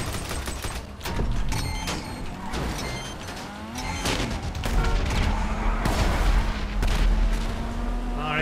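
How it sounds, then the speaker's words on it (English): Vehicle-mounted machine guns fire in GTA 5 Online, a steady stream of loud, dense bursts with mechanical clatter running throughout amid the game's background noise. "Nothing but these puny machine guns!"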